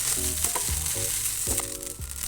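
Rice vermicelli filling is stir-fried with garlic and spring onion in a hot pan, a steady sizzle broken by several scraping stirs of a utensil, close and without talk.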